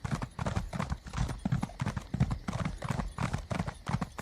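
Horse hooves galloping fast in the video game Elder Scrolls Online, a steady rapid clip-clop rhythm running throughout, close and fairly loud with no talk over it.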